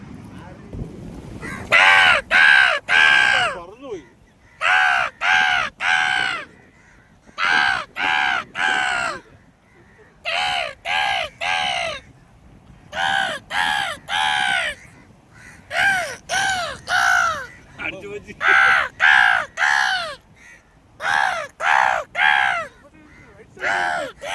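A flock of crows caws loudly in repeated bursts of harsh calls at their evening roosting area, with short quiet gaps between volleys, fairly close overhead.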